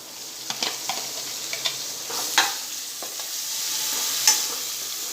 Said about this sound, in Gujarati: 1 મિનિટ જેવું આપણે કાંદાને સાતળીશું